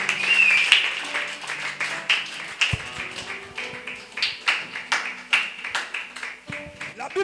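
A church congregation claps in a rhythmic, repeating beat, and a brief high ululating cry rises early on, with voices mixed in.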